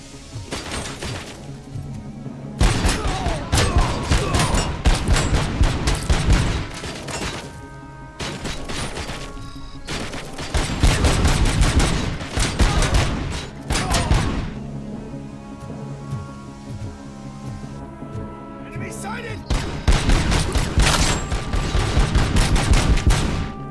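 Heavy gunfire in the action game Robocop: Rogue City, with loud, dense volleys of rapid shots and impacts continuing through most of the stretch and a few brief lulls, with no talking.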